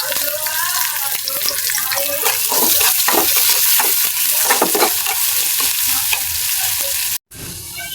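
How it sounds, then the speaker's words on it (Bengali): Chopped onions frying until brown for a tempering poured into mung dal cooked with a fish head: a loud, dense, close sizzle with constant stirring scrapes that cuts off abruptly near the end. "পেঁয়াজটি আমার ভাজা হয়ে গেছে বাদামি কালার হয়ে গেছে"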